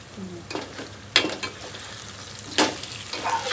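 Chicken leg pieces frying in onion masala gravy with coriander, a low steady sizzle interrupted by a few loud scraping stirs of the spoon, close up with no talking.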